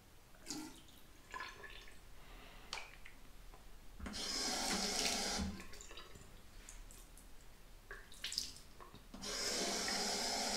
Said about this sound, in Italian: L'acqua ovviamente si raffredda subito, quella del pennello, e quindi lo andiamo a bagnare nuovamente.